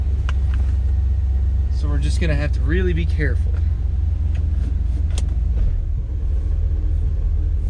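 A barn-find 1979 Camaro that sat for years runs while driving: a steady, loud low engine rumble holds throughout, with a person talking over it partway through.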